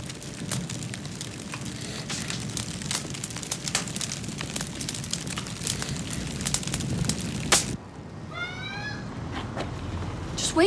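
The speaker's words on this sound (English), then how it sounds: "Oh, there's a fire." A fire burning inside a building gives a steady roar with crackling and sharp pops throughout, then cuts to a quieter stretch with a brief tonal cry over it.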